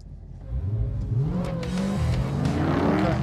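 A 2022 BMW M5 CS and a Dodge Charger Hellcat Redeye accelerate hard side by side in a drag race, engines climbing steadily in pitch through the gears, loud and sustained from inside the car with faint tire and wind noise.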